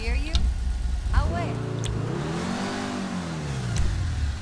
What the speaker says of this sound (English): Titanium exhaust.